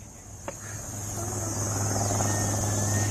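A helicopter aiding an army search operation for militants gives a steady whirring drone with a low, constant hum that grows slightly louder over the clip, with one faint click near the start.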